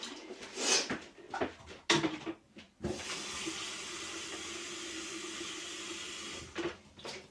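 Tap water runs steadily into a container in a kitchen, a close, continuous splashing stream lasting several seconds, preceded by a few clatters and handling knocks, with no talk.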